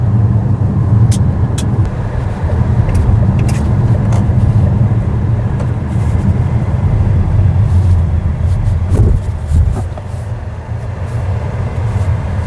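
Changan Deepal S7 with 218 horsepower driving on the road, a steady low interior rumble of tyres and motion with faint scattered ticks, constant and fairly loud throughout.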